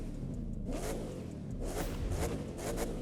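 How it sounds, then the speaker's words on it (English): Car engine starting in the racing game Test Drive Unlimited Solar Crown: a steady mid-pitched engine rumble with a couple of brief revving swells, close and continuous for a few seconds without talk. "start engine"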